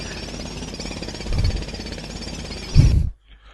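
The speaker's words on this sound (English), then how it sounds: "I think you're overheating the jackhammer." A jackhammer overheating in Road Works Simulator keeps up a continuous rattling drone, swelling into two louder thumps before it stops suddenly, leaving near silence.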